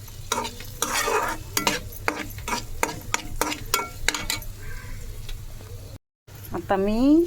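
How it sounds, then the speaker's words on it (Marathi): Curry leaves and turmeric roasting in a pan for a poha dish: crisp sizzling under quick, rhythmic scraping stirs of a spoon, close and fairly loud, briefly cutting out before a voice speaks at the end. "भाजत असतानाच वरून आपण हळदी पण टाकायची, कारण हळदी पण भाजायला पाहिजे"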